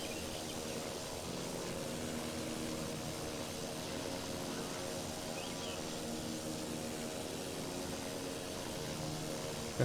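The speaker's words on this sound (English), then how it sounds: "I think I hear an aviatic engine somewhere." An Aviatik aircraft engine drones in the WWI flight game Wings Over Flanders, a steady distant propeller rumble that holds evenly throughout.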